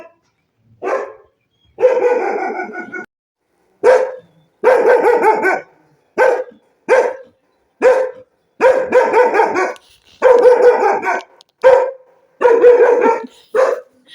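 A dog barks again and again in Munsiyari, giving loud, close barks in short bursts and runs with brief silent gaps between them.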